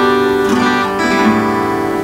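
An electric guitar slowly strumming the chords of a song, sustained ringing chords with a couple of soft strum attacks, loud and close with no talking.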